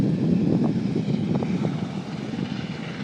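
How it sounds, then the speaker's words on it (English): A loud helicopter engine and rotor roar builds and drones steadily nearby as it takes off from Hilo Airport, with no voices. "it's neat watching those helicopters take off and land."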